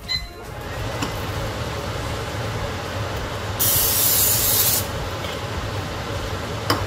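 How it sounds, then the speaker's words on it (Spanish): Olive oil cooking spray hisses onto a pan for about a second, a bright steady spray burst standing out over low kitchen background noise. "Lo vamos a poner de spray que tenemos de aceite de oliva y vamos a hacer nuestros pancakes"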